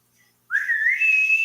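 A person whistles in an odd, sliding way to call a cat, one loud sustained whistle that rises and wavers after a brief near-silence.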